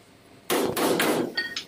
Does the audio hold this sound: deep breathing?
no